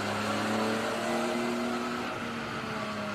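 Race car engine pulls steadily on a track behind a safety car, a continuous close-up drone with rising harmonic tones through a gear, loud and unbroken with no voices.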